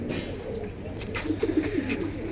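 Pigeons cooing at a pigeon market, a short run of low throaty coos close by, growing a little louder toward the end over faint background bustle.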